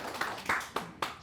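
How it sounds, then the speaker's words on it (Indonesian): Four loud, close hand claps spaced unevenly across about a second, with a little room echo after each. "Saya tepuk tangannya telat ya."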